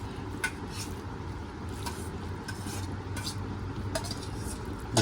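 Sweet potato leaves with shrimp are stirred in a cooking pot in a village kitchen, making soft, continuous scraping and wet squishing sounds close up, with faint clinks of the utensil against the pot.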